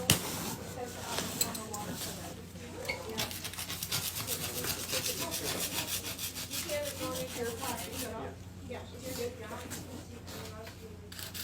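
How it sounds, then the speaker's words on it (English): Soft plastic spackling tool scraping keratin growth off a young green sea turtle's shell, a steady rasping rub in repeated strokes up close, with voices talking quietly over it. "we are just scraping it, so it's just like getting a back scratch"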